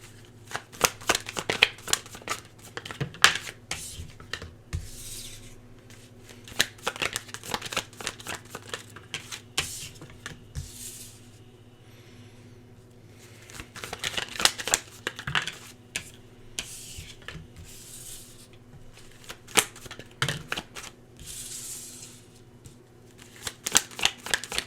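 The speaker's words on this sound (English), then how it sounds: "Let me just pull some cards for you and see what we have going on for my lovely Leos." Tarot cards shuffled by hand in repeated riffling bursts with short pauses between, crisp and close, continuing steadily throughout with no talking.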